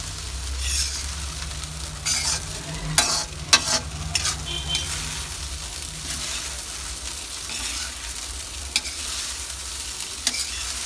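Vegetables frying on a low flame for soybean and egg fried rice give a steady soft sizzle, broken by occasional stirring scrapes and clinks from a utensil against the pan, close and continuous.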